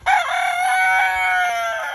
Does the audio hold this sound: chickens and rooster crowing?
yes